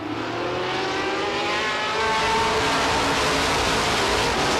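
Race cars battle side by side down the back straightaway at Star Speedway, a loud engine roar that builds and thickens partway through as the pack sweeps nearer, with no voices.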